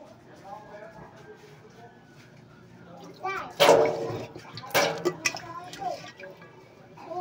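Water poured into a rice cooker pot for cooking rice, splashing in a couple of short bursts midway, with a person talking quietly before and between.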